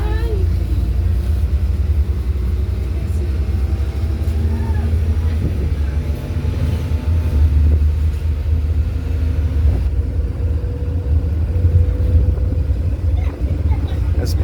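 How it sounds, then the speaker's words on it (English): A 2020 MAN Lion's City city bus on a Golden Arrow route from Claremont to Observatory gives a steady, loud low engine drone and rumble from inside the cabin while riding, with no breaks. "This bus is definitely sounding a lot happier and healthier."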